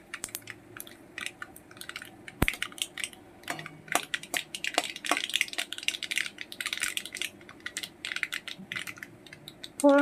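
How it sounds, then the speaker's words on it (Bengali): Mustard seeds splutter and pop in hot oil with cumin and dried chillies, a fast irregular crackle of sharp little snaps, some close and loud, others soft. "চটপট করে ফুটছে সর্ষেটা"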